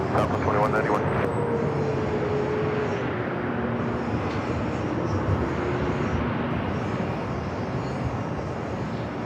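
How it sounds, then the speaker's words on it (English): A Delta Airbus A321neo jet taxis at San Diego airport with a steady, broad engine rumble that holds for the whole stretch, and a brief voice is heard near the start. "It's A321 Neo, Delta Airline Flight 552 heading back to JFK."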